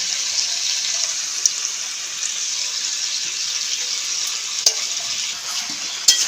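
Chana dal fries and is stirred with raw pumpkin curry, a steady, bright hiss of sizzling with a few sharp scrapes and clacks from stirring. There are no voices.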